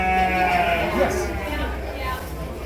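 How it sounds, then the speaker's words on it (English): Leicester Longwool and Wensleydale sheep at a farm give a bleat against steady background noise and voices, the sheep calling briefly at middle distance. "Here's some Leicester Long wool and Wensleydale sheep from Berry Hill Farm."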